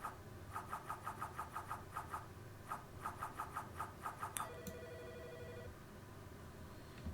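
Telephone ringing inside the Autopsy Simulator video game: repeated bursts of electronic ring tones in evenly spaced pairs, fairly loud over a low background hum, ending in a descending beep as the line picks up.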